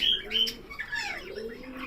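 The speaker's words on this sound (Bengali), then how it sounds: "দেখেন মাশাল্লাহ খুবই চমৎকার সাইজের একটা মেল পাখি রয়েছে এখানে" A male lutino ringneck parakeet calling up close, a short bright squawk followed by softer warbling chatter among cage birds.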